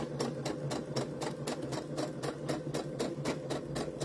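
A sewing machine chain stitching pieces of fabric one after another runs steadily and close, its needle thumping in a fast, even rhythm with no talking.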